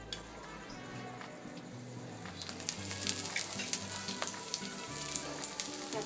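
Coconut slices, garlic and ginger sizzle and fry in oil in a pan for an eel (vam fish) curry, a steady close crackle that turns louder and brighter partway through, with no talking.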